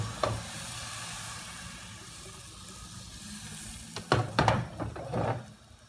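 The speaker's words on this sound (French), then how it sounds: "Et on va tester notre pâte à crêpes." Crêpe batter sizzles in an oiled frying pan, a steady soft hiss that runs throughout, with a few louder scraping and clattering bursts near the end.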